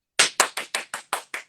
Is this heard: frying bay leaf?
no